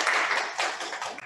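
Applause from an audience at a youth housing forum, a short burst of clapping at moderate distance, dense and even for about a second.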